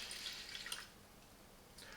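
Water poured into the rice basket of a Russell Hobbs food steamer, a faint brief trickling splash at close range that fades to quiet after about a second, with a small splash near the end.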